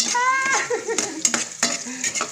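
Ginger stir-fried in a pan sizzles softly while a metal utensil scrapes and clacks against the pan in several sharp strokes; a voice is heard briefly at the start.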